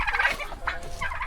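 Turkeys gobble in bursts, close and loud, in a farmyard pen shared with chickens, several calls overlapping in quick succession with no voices.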